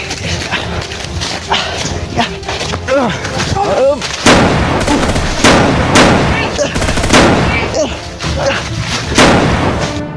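Repeated heavy gunshots crack and boom in an uneven series, loud and close, mixed with dog barking and shouting voices.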